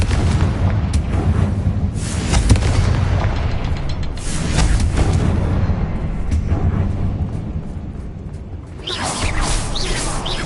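A Confringo fire spell explodes in Hogwarts Legacy: loud, booming blasts with deep rumbling and rushing whooshes that roll on for several seconds, followed by another burst near the end, with no voices.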